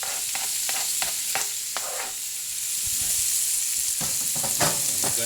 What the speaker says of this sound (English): let it saute a little bit